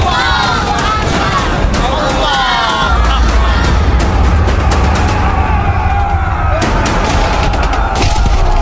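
Gunfire effect in an Indonesian historical audio drama about Cut Nyak Dhien: rapid volleys of shots and booms under shouting voices and battle noise, loud and continuous throughout.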